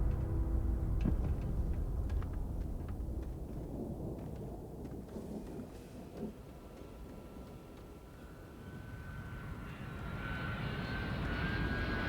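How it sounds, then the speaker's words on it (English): A shuttle in the Starfield video game rumbles in for a landing, a deep roaring engine swell that builds over several seconds, then a rising whine as it nears. "something sounds plane-like, like a shuttle about to land or something"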